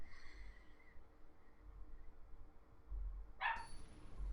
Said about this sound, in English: Sorry about the dogs again.